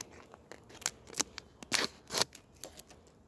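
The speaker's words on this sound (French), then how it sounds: "Donc on va ouvrir le sachet." A beekeeper tears and cuts open a sachet of Apivar plastic strips for treating hives. Close, crinkly crackling and sharp snips come in irregular bursts of varying loudness, with no talk.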